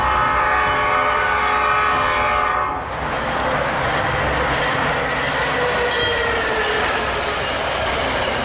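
A 70 mph train roars past at a crossing, horn blaring with steady tonal bands before a sudden shift into loud, broadband rushing wheel and car noise that continues to the end.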